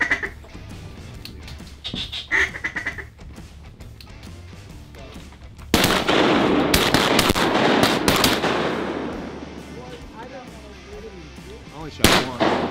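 Shotguns boom in a burst of close, loud shots during a teal duck hunt, several blasts in quick succession with a sharp report near the end, as hunters talk around the volley.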